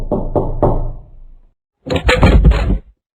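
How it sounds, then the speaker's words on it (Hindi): Knuckles rap on a house door: three quick knocks, a short pause, then a louder, denser burst of knocking, close and clear with no talking. "सुबह जब जसवंती की नींद खुली तो कोई उसके घर का दरवाजा खटखटा रहा था।"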